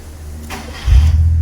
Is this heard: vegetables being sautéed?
no